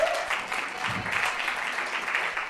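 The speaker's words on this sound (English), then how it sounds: "Round of applause," A crowd applauds at a live Portland music and variety show, steady clapping filling the room for a couple of seconds with no voices on top.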